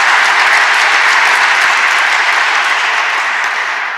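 Loud, dense applause from a large crowd inside a marble hall, a continuous hiss-like roar of many hands that fades slightly toward the end.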